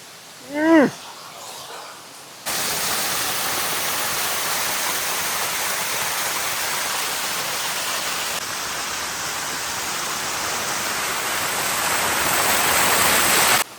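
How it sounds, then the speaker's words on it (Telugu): A brief bird call rings out, then a steady, loud rush of a flowing stream in forested hills fills the rest, constant and close. "ఇదే ఇలాగ పారుతుంది కదండి నీరు"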